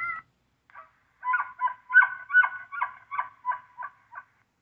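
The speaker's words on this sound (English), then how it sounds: "Elk bugle grunt." A series of about ten short, nasal elk bugle grunt calls in quick succession from a Western Rivers Mantis Pro 100 electronic game call, loud and close, with no talking.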